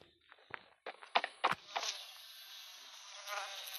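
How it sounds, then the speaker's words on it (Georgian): Buzzing flies in the video game Poppy Playtime Chapter 3 are mixed with a series of sharp, close clicks and thuds near the start, then settle into a thin, steady insect drone that stays faint and continuous. "ბუზების ხმები ყოფილა."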